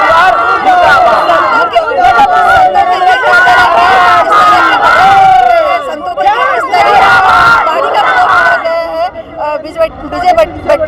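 Street protest crowd in Nagpur, loud massed voices chanting and shouting together in continuous overlapping waves, with a brief dip in the middle before the group din resumes.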